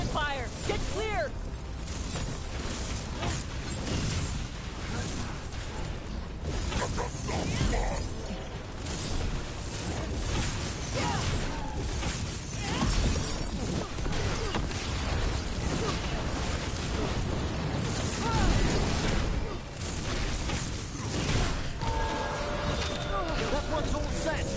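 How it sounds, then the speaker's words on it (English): Booming cannon fire and shattering impacts from the fantasy game Dragon Age: The Veilguard, loud and continuous through the whole stretch, with repeated bursts layered under shouted character dialogue and battle noise. "Cannon fire! Get clear!"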